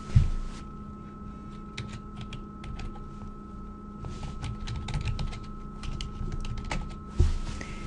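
Someone types a zip file name on a computer keyboard, with quick bursts of key clicks separated by pauses over a steady electrical hum.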